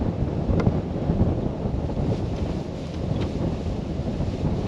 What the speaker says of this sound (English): that WIND's getting up